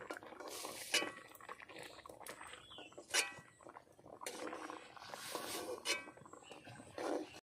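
Boiled pumpkin pieces are lifted out onto a plate, with scattered clinks and scrapes of utensils against metal and crockery, a few sharp knocks among softer shuffling, close by and without speech.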